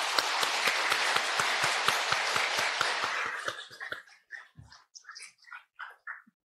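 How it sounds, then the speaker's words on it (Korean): A congregation applauds at a New Year's Eve church service, loud dense clapping for about three seconds before thinning into scattered claps and quiet murmuring voices. "2024년 새해를 주신 하나님께 우리 영광의 박수를 돌립시다"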